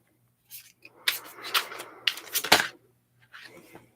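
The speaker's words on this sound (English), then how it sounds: "I'm going to shuffle the cards" Tarot cards shuffled by hand in a quiet ASMR setting, giving several close, crisp bursts of riffling and flicking over about three seconds, then a softer brief shuffle near the end.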